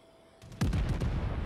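HE shells fired at the battleship Bayern in World of Warships: quiet background, then a sudden heavy naval gun boom with rumbling, rolling low echoes that persist afterward.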